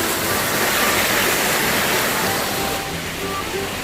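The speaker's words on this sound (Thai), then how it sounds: "มีน้ำตกนี่" Rushing waterfall at Mae Kampong village in Chiang Mai, a steady broadband roar of falling water that fills the scene without a break; speech-like murmurs may sit faintly within the wash.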